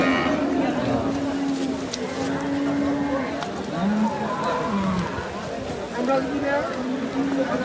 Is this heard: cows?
yes